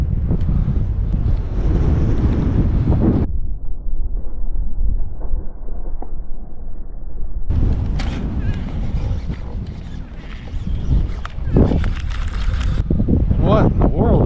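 Wind rushes over open water on a bass-fishing outing near Grand Rapids, roaring loudly against the microphone in long gusts with a quieter lull partway through.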